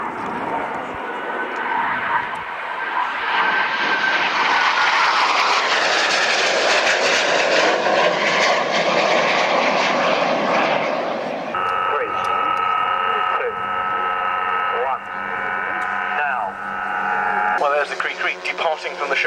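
Military jet aircraft flying past at the 1998 St Mawgan air show, a loud roaring rush that swells and fades, followed by a steadier engine drone, with a public-address commentator talking over it throughout.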